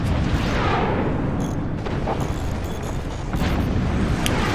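Howitzer shots explode repeatedly in the physics-based fort battle game Forts, a dense, continuous rumble of booming blasts and fire with a few sharper bursts over about four seconds, loud and close.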